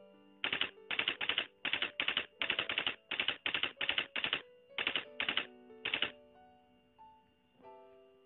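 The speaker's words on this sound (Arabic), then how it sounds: "هنا نكتب الباسورد بتاع الجيميل" Taps on a phone screen keyboard while entering a Gmail password, heard as quick rhythmic clusters of clicky keystrokes in short bursts, close and clear with no talking.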